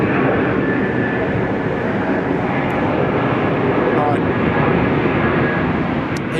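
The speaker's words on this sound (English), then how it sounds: "Here comes our United 870 as well." United Airlines flight 870 jet at Sydney Airport, heading for San Francisco, producing a loud, steady engine roar that fills the whole stretch, close and continuous with no break.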